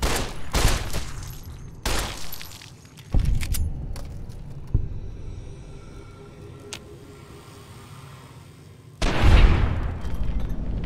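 Gunshots ring out in Fallout New Vegas, a handful of loud, sharp reports spaced a second or two apart, each trailing into a ringing decay, with quieter game ambience between them.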